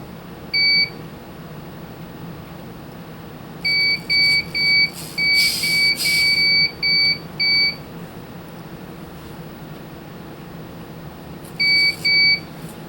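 An Anritsu OTDR beeps when its vertical zoom reaches its limit, giving short, sharp electronic tones: one alone, then a rapid run of about nine, then two more, over a faint steady hum.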